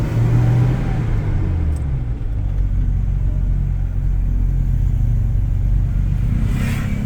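Toyota Innova engine droning steadily from inside the cabin, a low rumbling hum that builds gently as the car pulls along under light throttle, with no voices.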